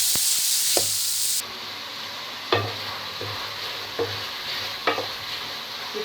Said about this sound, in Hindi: इसको अच्छी तरीके से फ्राई करेंगे।